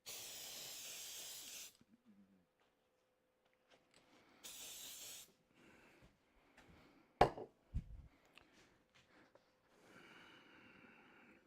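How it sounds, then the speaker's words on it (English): Aerosol spray can hissing in a spray booth in a woodworking shop, in two short bursts of steady hiss near the start and middle, with faint handling clatter and a sharp knock between them. "And again, we'll spray it."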